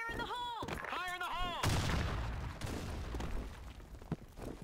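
A grenade explodes in the online shooter BlackShot during a clan war match: a loud broadband blast after a voice shouts, followed by a rumbling, crackling tail with scattered gunfire-like pops.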